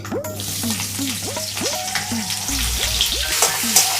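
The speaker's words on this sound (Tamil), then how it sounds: "ஸோ எண்ணெய் ஊற்றிய கடலைப்பருப்பு போட்டு சேக்க விட்டாச்சு" Chana dal frying in oil for semiya kichadi, giving a steady close sizzle that runs throughout, with a repeating sequence of short rising-and-falling tonal chirps over the hiss.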